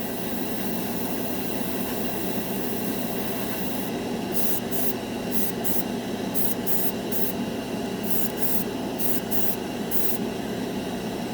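Steady hissing spray of Splash Paints Metalizer paint runs throughout, with a rhythmic pattern of short bursts toward the end, close by and fairly loud.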